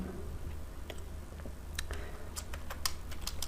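Keys are tapped on a computer keyboard in irregular bursts, with a few sparse clicks first and then a quicker cluster of crisp, close keystrokes.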